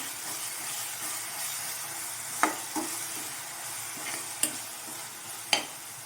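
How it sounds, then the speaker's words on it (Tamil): Ginger garlic paste sizzles steadily while it sautés in a pan for a fried cauliflower biryani, a close, continuous frying hiss broken by a few sharp clinks and scrapes of a stirring spoon. "இப்போது இஞ்சி பூண்டு பேஸ்ட் சேர்த்து ஒரு 2 நிமிஷம் நல்லா வதங்கட்டும்"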